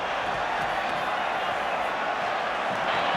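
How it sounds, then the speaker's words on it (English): A large Auckland rugby crowd at a 1996 Super Rugby final roars in a steady, dense wash of cheering and singing, heard from a distance with no break in the noise. "It's quite marvellous, isn't it, to hear an Auckland crowd singing to the tune of this game"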